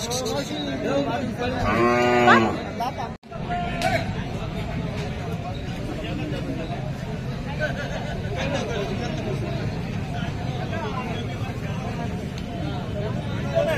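A single loud bull's moo rises over the steady hubbub of a crowded bullock market at Belhe, Maharashtra, where pairs of bulls are sold, with people chattering throughout.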